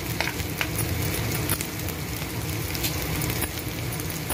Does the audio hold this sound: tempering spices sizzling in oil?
yes